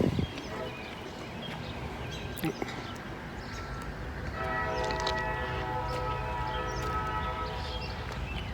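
Freight local L425 hauled by EMD locomotives rumbles past up close, a low steady roar with rising engine drone and sustained tonal ringing in the back half, plus a brief clank early on.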